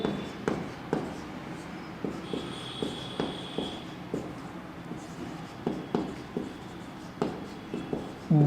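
Chalk or marker taps and strokes on a classroom board come in short irregular bursts, close and fairly crisp, with a brief faint tone in the background and no talk.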